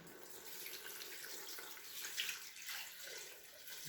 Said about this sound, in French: Alors je rajoute du bouillon de bœuf.